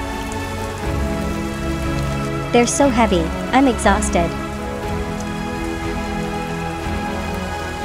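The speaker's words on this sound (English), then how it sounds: "The rain, it's coming in through the broken windows." Rain falls steadily in the video game Project Zomboid, a constant soft patter under a low ambient music drone, while a voice speaks briefly in the middle.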